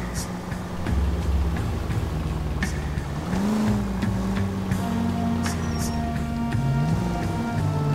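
A car speeding through city streets in the video game L.A. Noire, its engine droning steadily and rising in pitch as it accelerates, with a continuous loud engine hum throughout.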